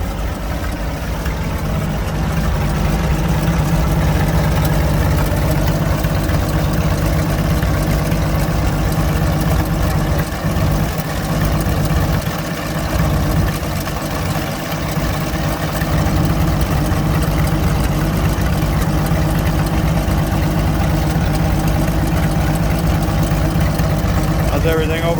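Allis Chalmers tractor engine idling close by with a slight miss, a steady low chugging rumble with faint irregular beats, while someone talks over it.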